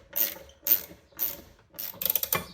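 Ratcheting clicks of a wrench tightening a push mower's blade bolt: four short bursts of rapid metallic pawl clicks, spaced about half a second apart, with the last run quicker and busier, close and clear.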